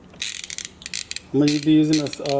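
Ratchet with a 15 mm socket on an extension loosening seat bolts in a Chevrolet Silverado, quick clicking pawl strokes followed by a loud, drawn-out creaking of turning bolts, close by.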